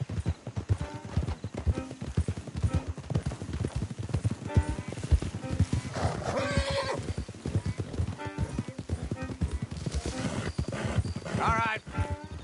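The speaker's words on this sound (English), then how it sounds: "Don't want the horses clopping around outside the window." Horses' hooves clop in a steady rhythm, close up, with occasional whinnies and neighing over the hoofbeats, in the video game Red Dead Redemption 2.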